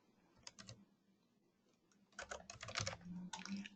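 Keys clack on a computer keyboard in short bursts, a few light taps first and then a denser, louder run of quick keystrokes close by in a quiet room.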